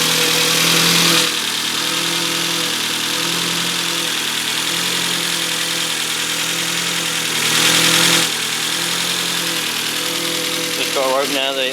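Ford Focus RS engine idling just after a new battery was fitted, a steady close rumble with two brief louder surges, and a voice briefly at the end.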